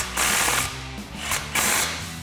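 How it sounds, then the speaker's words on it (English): An impact wrench with an extension and 14mm swivel socket tightens exhaust flanges on a 2022-2025 Toyota Tundra, giving two loud rattling bursts separated by a short pause. "tighten our front flanges down so we have our impact, extension, and 14mm swivel socket"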